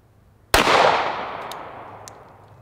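A single 9mm pistol shot striking a steel trailer hitch: one sharp, loud report followed by a long decaying ring, with a couple of faint clicks afterward.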